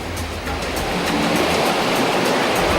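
Ocean surf breaks and rushes continuously onto the shore in a loud, dense wash of sound, steady throughout without distinct pauses, with no voices.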